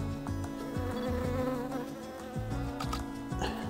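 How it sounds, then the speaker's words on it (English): A small bee buzzes steadily and close by outdoors, its drone wavering in pitch and loudness across the few seconds with no talking over it. "There's a little bee."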